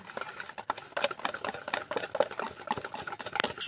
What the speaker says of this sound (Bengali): বেকিং সোডা সব কিছু দিয়ে ভালো করে ফেটিয়ে নেব